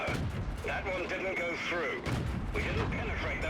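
Tank cannon shots fired at a KV-1 in a tank video game, heavy booming reports repeating over a few seconds under continuous commentary.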